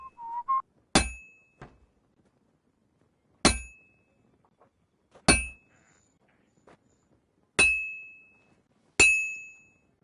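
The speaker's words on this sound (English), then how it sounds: "I have to hammer it more evenly." Five sharp, ringing hammer blows on metal at a blacksmith's anvil in Kingdom Come Deliverance 2, spaced a couple of seconds apart, each with a bright clang that decays slowly into near silence.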